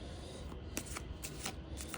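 Cards are shuffled by hand for a card reading, giving quick, faint riffling bursts in an irregular rhythm, close but quiet, with no voices.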